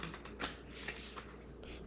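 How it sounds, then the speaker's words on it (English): Tarot cards are riffle-shuffled close by in a quick, faint flurry of papery ruffling and soft clicks, briefly and alone. "let's get these a ruffle shuffle and see what we have with this."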